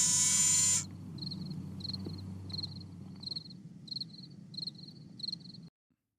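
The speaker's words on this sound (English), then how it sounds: "Fake cricket sound effects." A fake cricket sound effect chirps in regular short pulses, bright and repetitive over a low hum, cutting off abruptly at the end.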